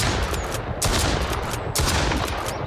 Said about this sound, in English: Eat shotgun, Yogi.